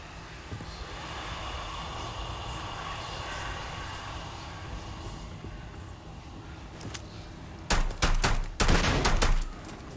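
Turret gunfire in the sci-fi video game Starfield: after a steady hum of ship and ambient game noise, several loud, sharp bursts of rapid shots crack out close up near the end, separated by brief gaps.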